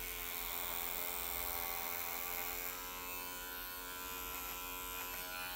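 Electric hair clippers cutting hair during a haircut, giving a steady, close, even buzz that hums on without a break and with no talking.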